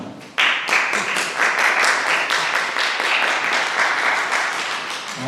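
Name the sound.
loud audience applause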